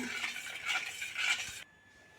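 A spoon stirs a sweetened rice and urad dal batter for Chettinad paal paniyaram in a bowl, giving soft rhythmic scraping and swishing up close that stops abruptly near the end.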